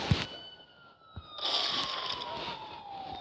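A police siren in a video game wails in rising and falling tones for a few seconds, fairly loud, with a sharp bang near the start and game noise around it.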